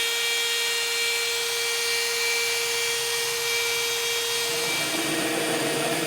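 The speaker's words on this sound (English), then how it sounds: "Now we'll take our 4-inch hole saw and drill through our bed." Drill driving a 4-inch hole saw through the bed of a 2024 Ford F-350 pickup, a loud sustained whirring grind with a steady tone that shifts near the end as the cut breaks through.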